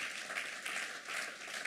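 A church congregation applauds at a distance, a steady wash of clapping that swells and eases in soft waves without any clear cheering voices.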